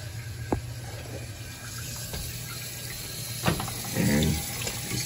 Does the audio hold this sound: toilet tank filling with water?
yes